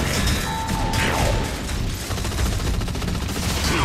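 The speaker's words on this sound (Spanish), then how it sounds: "¡Los disparos rebotan!" Continuous gunfire in the video game Gears of War 3, with shots ricocheting off armor, loud and dense rattling bursts mixed with mechanical clatter throughout, no voices over it.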